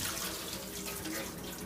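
Tap water pours over cooked ramen noodles in a kitchen sink strainer to rinse off the starch, a steady, close rushing splash that lasts throughout.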